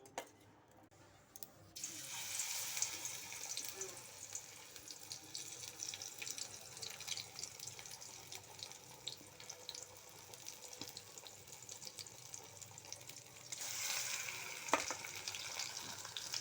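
Pumpkin flower fritters in gram flour batter frying in hot oil, a steady close hiss and bubbling fizz that starts after a quiet moment and runs continuously, swelling brighter near the end.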